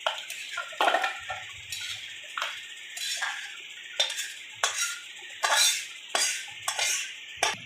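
A spoon scrapes and clinks against a metal pot again and again as chicken kosha is scooped out into a serving dish. About a dozen short, uneven strokes sound up close with no talking.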